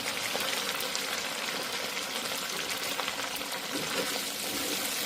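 Onions stir-frying in scallion oil for Korean stir-fried sundae, giving a dense, continuous sizzle and hiss close up with faint scraping underneath and no voices.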